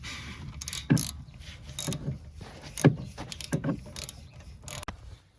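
A wrench works loose a brake caliper bolt on a Toyota RAV4 with irregular metallic ratcheting clicks and clanks in quick bursts, heard close with no talking.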